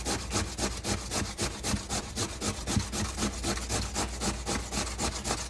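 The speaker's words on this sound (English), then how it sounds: "You could do that in the food processor if you wanted to, but this little box grater works great." Potatoes grated on a small box grater, a fast regular series of rasping strokes, loud and close, continuing steadily without speech.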